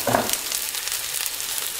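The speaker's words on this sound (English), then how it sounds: "Now you only want to fry the ginger until it starts to get that fragrance" Ginger, shallots and lemongrass fry in a hot wok, giving a close, continuous bright sizzle with a brief stirring clatter at the start.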